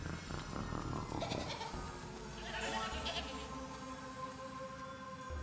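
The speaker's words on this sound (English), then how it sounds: "I'm now a goat." A goat bleating in the video game Plants vs Zombies Battle for Neighborville, repeated wavering bleats over game music and effects.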